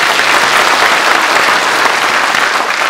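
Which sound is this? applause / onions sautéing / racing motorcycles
applause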